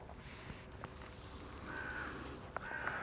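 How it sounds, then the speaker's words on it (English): A crow caws a few times at a distance, short hoarse calls rising over a faint, hushed morning ambience while birds begin to stir. "The birds are beginning to stir as well."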